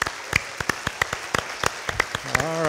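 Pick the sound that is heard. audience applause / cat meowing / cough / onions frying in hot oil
audience applause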